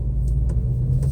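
A Ford Mustang rolls along at slow speed, a steady close low engine and road rumble with faint higher hiss, no voices.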